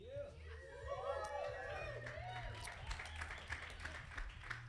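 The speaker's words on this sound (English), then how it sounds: "Thank you for applauding." Audience applause at a church Mother's Day gathering as a couple is introduced, a crowd clapping under a person speaking, building then tapering over a few seconds.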